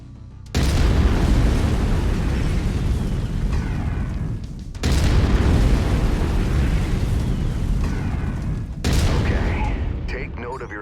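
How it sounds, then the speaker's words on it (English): A mech's autocannon in Mechwarrior 5: Mercenaries blasts three long, loud, sustained bursts of heavy rapid fire, each breaking off abruptly before the next begins. "I've mapped the autocannon to Weapon Group 1. You're free to fire whenever you're ready."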